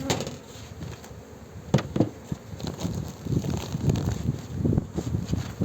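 Honeybees swarming around an opened hive in Muğla in April, a dense close buzz with louder passes and a few knocks of frames being handled.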